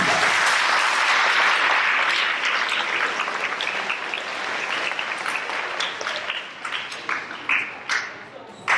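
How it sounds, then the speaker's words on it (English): An audience at an eighth-grade awards program breaks into loud, dense applause that swells and then thins out into scattered individual claps toward the end. "Let's give them a round of applause."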